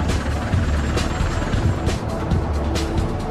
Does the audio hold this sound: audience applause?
no